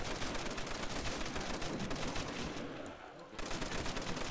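A deployable Browning machine gun fires in sustained automatic bursts in a zombies video game, steady and dense, briefly dipping before resuming.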